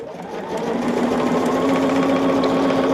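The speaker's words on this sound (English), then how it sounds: "we are just doing a quick sewing today, friends" A sewing machine runs steadily and close by, stitching fat-quarter pieces for a Sunbeam quilt, its fast whirring hum holding even for the whole moment with no talking.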